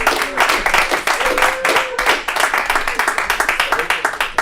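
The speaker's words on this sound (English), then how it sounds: "Give a round of applause for Jordain Brown." Live comedy club audience claps and cheers as the first comedian is brought to the stage, dense steady applause with whoops, close and loud throughout.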